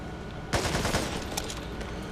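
An AK-47 fires in the zombie shooter Back 4 Blood: a sharp onset opens a rapid automatic burst of close, crackling shots, with a few more scattered reports trailing off over the next two seconds.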